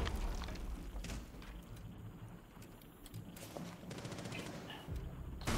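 Rapid gunfire in the tactical shooter game Rainbow Six Siege, shotgun blasts and bursts crackling continuously through a dense, busy mix of game noise with no talk.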